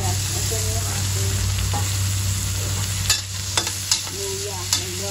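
Onion and ginger sizzle steadily as they sauté in hot oil for tinola, a continuous frying hiss with a few sharp utensil scrapes and taps near the end, with no talk.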